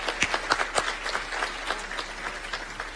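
Applause at a city council session in Brazil: a small group claps in scattered, uneven bursts that stay fairly faint, with no talk over it.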